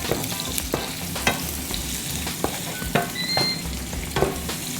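Onion fries in hot oil with a steady crackling sizzle, close and continuous, broken by sharp scraping stirs and clinks of a utensil in the pan.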